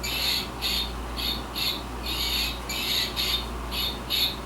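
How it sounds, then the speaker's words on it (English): A squawking toy bird gives harsh, shrill squawks that repeat in a fairly regular rhythm over a constant low hum, close and moderately loud. "it sounds like a parakeet from hell"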